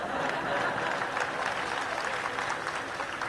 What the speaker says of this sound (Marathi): काय टाळ्या पडतायत आज